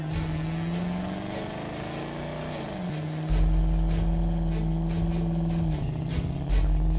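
A cartoon car chasing a train, its engine droning steadily and shifting pitch as it speeds up, with a deeper rumble kicking in partway through, loud and close with no talking.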